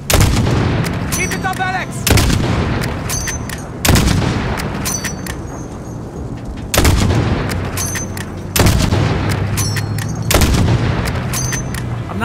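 Loud, heavy gunshots fired at vehicle tires in Call of Duty Modern Warfare Remastered, single booming rounds every second or two with shouted voices between.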